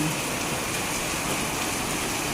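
Steady rain after two months of dry weather pours down in a dense, even hiss that fills the whole stretch without pause, close and constant with no voices.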